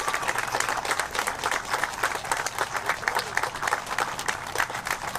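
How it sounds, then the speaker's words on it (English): An outdoor crowd at a Memorial Day ceremony in Hurley, New York applauds the grand marshal, a fire service veteran. The applause is dense and sustained throughout at moderate volume, with a little crowd noise mixed in. "Please give Justice a round of applause."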